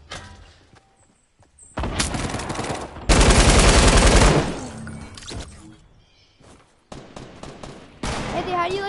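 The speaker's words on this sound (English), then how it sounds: "light machine gun, let's get it" Light machine gun fire in a video game, long sustained automatic bursts separated by short pauses and quieter stretches, loud and close.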